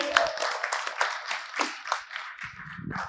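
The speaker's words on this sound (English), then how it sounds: "Can we have a round of applause for both of them?" Thin, sparse clapping from a small audience at a corporate quiz final, a handful of hands beating unevenly for a few seconds before a voice comes in at the end.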